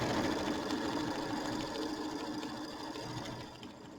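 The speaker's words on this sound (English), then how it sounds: "I'll pause the camera for a few moments while it quilts" An embroidery machine stitches quilting on a mini quilt with a fast, steady mechanical whir and rapid needle chatter, close and continuous, easing slightly quieter near the end.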